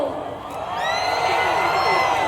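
Large crowd at an Iglesia ni Cristo rally for peace and democracy, standing and shouting together in a loud sustained roar of cheers and whoops.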